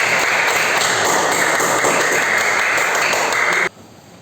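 Steady applause from a class of students for a classroom group, a dense even wash of clapping that holds for several seconds and then stops abruptly.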